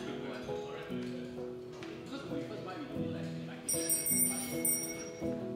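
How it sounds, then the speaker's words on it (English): A bell rings out brightly midway through to end lunch in a seminary dining hall, over a busy murmur of voices and background clatter. "The bell being rung signals the end of lunch"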